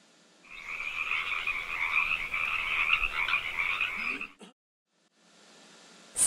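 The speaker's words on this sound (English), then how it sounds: "Frog." A frog croaks in one long, steady trilling run that stops abruptly, followed by a brief pause and a faint restart.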